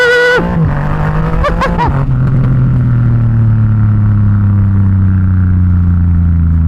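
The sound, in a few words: straight-piped Triumph Rocket 3 motorcycle engine revving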